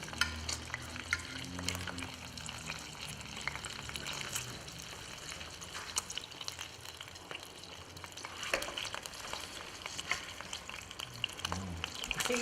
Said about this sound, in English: We're frying the potatoes now.